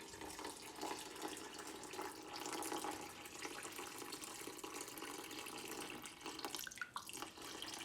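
Water is poured steadily into a container on a scale while mixing sourdough dough, a continuous close splashing trickle lasting several seconds with no one speaking.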